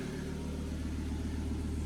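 A car with an M66 engine idles steadily, giving a low, even rumble with a faint rhythmic pulse. It is close and constant, and no one speaks.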